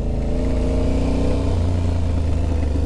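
An Aprilia Tuareg 660 motorcycle being ridden gives a steady, loud mid-pitched engine drone at an even throttle, with road and wind noise mixed underneath.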